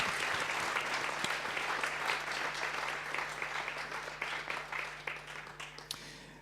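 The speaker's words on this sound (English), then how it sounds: "Please give her a warm applause" A conference audience applauds at a science-policy keynote debate, dense even clapping from a sizeable crowd that holds steady, then thins and fades out over several seconds.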